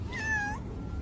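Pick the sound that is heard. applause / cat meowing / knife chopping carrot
cat meowing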